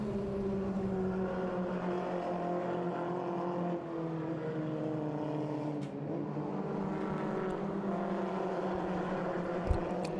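F1600 open-wheel race cars at Road Atlanta drone steadily as they run through turn 6, several engines overlapping in a continuous high-revving whine that swells and shifts pitch as the pack passes.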